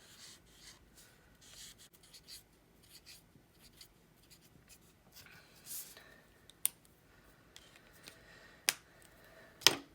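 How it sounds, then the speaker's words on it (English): Pen drawing lines on origami paper, a quiet scratchy rubbing in short irregular strokes, close up, with a few sharper clicks and taps near the end. "So I just drew some lines."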